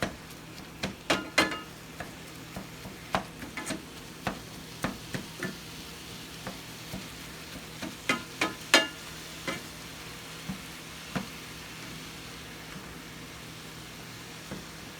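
Lean ground beef frying in a pan for tacos, a faint, low sizzle beneath scattered sharp taps and scrapes of a spatula against the pan, spaced irregularly and fading toward the end.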